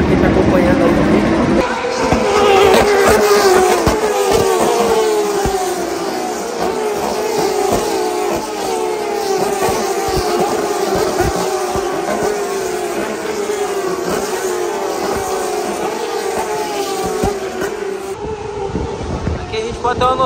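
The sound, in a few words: Turismo Carretera race cars with open carburetors at race start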